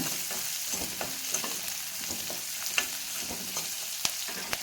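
Bitter gourd sautéing in a pan gives off a steady sizzle and fry hiss, with occasional sharp clicks and scrapes as it is stirred, close and continuous with no voices.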